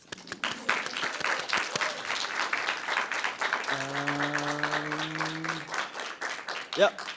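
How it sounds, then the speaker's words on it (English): A lecture audience breaks into a dense round of clapping that carries on steadily, with a voice speaking briefly over it partway through. "we'll have another round of applause"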